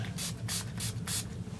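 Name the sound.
spraying water from a NYX finishing spray bottle onto brush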